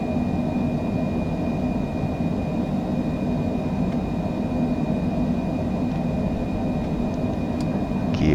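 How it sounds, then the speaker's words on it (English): Airliner jet engines roar steadily at takeoff thrust in Microsoft Flight Simulator, a loud continuous rumble with a faint high whine held throughout and a brief change near the end. "takeoff thrust set, 70 knots, 80, 90, V1"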